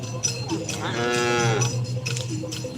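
Cattle at a karapan sapi bull race in a size-class event let out a long, loud, close moo that rises and falls, over steady crowd and engine-like background noise.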